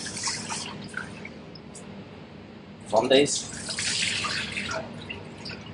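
Water splashes and trickles as rice is rinsed and washed by hand in a pot, intermittent swishing and pouring sounds up close, with a person speaking briefly.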